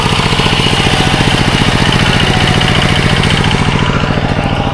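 A walking tractor's engine chugs steadily close by on a rural farm in southern Laos, a loud, even, rapid mechanical putter with no pauses or other sounds.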